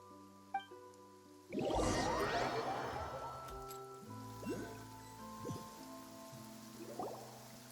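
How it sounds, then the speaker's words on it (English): Steady rain falls in a Genshin Impact scene, a continuous wash of drops with a few soft splashes and thuds over a low ambient music bed, no speech. "It's been raining non-stop for a few days now."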